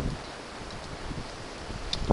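Strong wind gusting through a snowy blizzard, a steady broadband roar buffeting the microphone, close and continuous with no voices.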